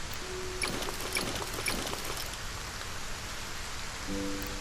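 Steady rainfall in the video game SolarPunk, a dense, even hiss of drops on surfaces throughout, fairly quiet and unbroken, with no voices.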